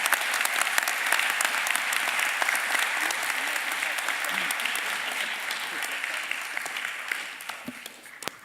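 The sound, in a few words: applause for graduates at a commencement ceremony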